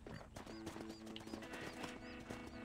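Horse hooves clop in a quick rhythmic gait in the video game Red Dead Redemption, with a brief whinny and game music in the background, fairly faint overall.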